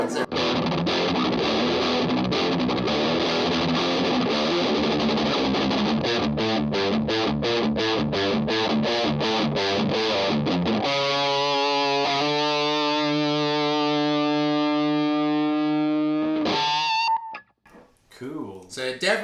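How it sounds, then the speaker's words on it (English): An electric guitar runs through an overdrive into a distortion pedal, playing a fast, chugging rhythmic riff with heavy gain. It then lets a thick sustained chord ring out before cutting off, loud and close. "When you do an overdrive into a distortion, it gets the gain you want without sounding fizzy."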